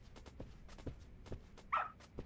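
Dog barking in the Lost Judgment video game: a few faint, short yips and barks, the clearest one near the end, over quiet footsteps and background noise.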